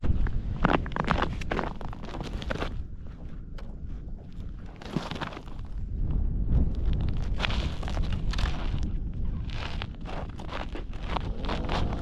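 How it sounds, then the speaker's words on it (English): Gusty wind on frozen Moosehead Lake, Maine, while ice fishing, buffets the microphone in a steady, rough roar, with a few irregular clicks and knocks scattered through it. "It's windy."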